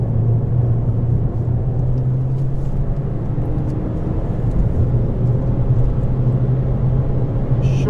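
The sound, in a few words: Ford Fiesta ST car engine accelerating on race track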